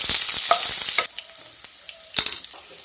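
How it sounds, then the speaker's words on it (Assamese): Onions and bhut jolokia chilies sizzle loudly in hot oil in a pan for about a second, then the frying drops to a quieter crackle with light stirring and a brief flare of sizzle near the end. "ফ্ৰাই কৰিম।"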